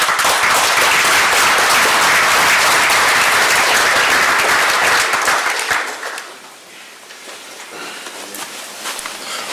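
A crowd claps loudly and steadily for about six seconds at a military volunteer recognition ceremony, then the applause fades to scattered claps and quiet room noise.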